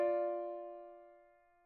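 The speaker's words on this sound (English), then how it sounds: "The major sixth is made up of 9 half steps," Major sixth interval of nine half steps sounded as one sustained piano-like dyad, a clear single strike that rings out and fades gradually with nothing else heard.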